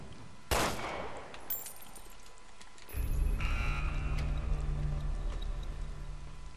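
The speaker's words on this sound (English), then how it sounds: "Let me try shooting it down." Gunshots ring out in Resident Evil Revelations 2 as a player shoots at an out-of-reach key, with one sharp loud shot and a fainter second crack, followed by a low rumbling game ambience.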